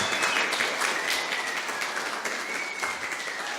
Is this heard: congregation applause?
yes